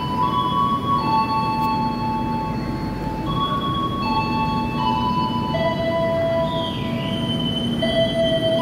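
The Kamandaka passenger train running on rails out of Tegal, a loud steady rumble of wheels with several sustained metallic squeals and whines rising and falling above it throughout.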